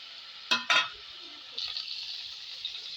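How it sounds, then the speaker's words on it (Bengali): Prawns frying in a pan in a home kitchen, with a soft steady sizzle after two sharp clinks of a utensil, at moderate volume. "চিংড়ি মাছটা একটু ভেজে নিই"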